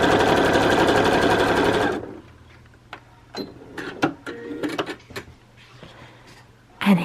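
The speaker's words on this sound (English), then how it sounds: "And here we see the lesser spotted Elspeth, busy at her sewing machine." A sewing machine runs loudly and steadily for about two seconds at a home craft bench, then stops, followed by scattered small clicks and handling knocks over a low hum.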